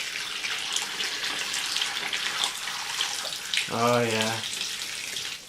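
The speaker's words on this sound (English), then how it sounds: "I'm just going to fill up this tub" Tap water running into a tub being filled with about a gallon of water for a reptile humid hide, a steady broadband rush throughout, with a brief voice cutting in near the end.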